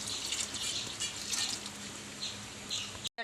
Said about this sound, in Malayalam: 1-ാം പാൽ ഒഴിക്കുന്നു.